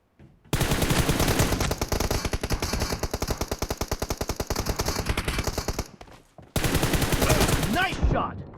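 M416 assault rifle fire in a PUBG team deathmatch: long bursts of rapid, loud, close automatic shots, a brief pause near the six-second mark, then another burst.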